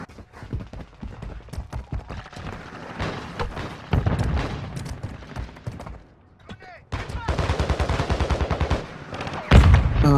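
Gunfire in a Warzone Mobile team deathmatch: rapid automatic bursts and single shots in close succession, loud and continuous with short gaps, and a few voices mixed in underneath.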